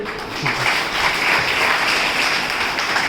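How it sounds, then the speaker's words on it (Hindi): A seated audience breaks into steady, sustained applause at a Hindi-language talk, a dense wash of clapping hands that stays loud and even throughout with no break. "भाई ऐसी मां पे ताली नहीं बजेगी"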